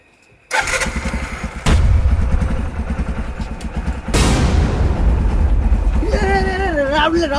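A motorbike engine in a Gujarati village scene starts up and revs loudly, then settles into a steady running drone that continues throughout, close by, with people talking over it.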